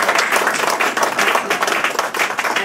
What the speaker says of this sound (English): I think we could give him another round of applause